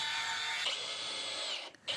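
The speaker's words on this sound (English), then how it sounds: "Now I'm drilling out the hole that the pin will go into so that the arm can lever." A power drill bores a hole for the arm pin of a homemade shave horse, a steady high whine close up that shifts pitch partway through and briefly cuts out before starting again.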